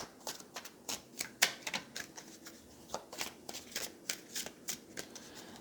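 Tarot cards being shuffled by hand, a close run of crisp riffling snaps and papery flicks in an uneven rhythm, repeating steadily with no one talking.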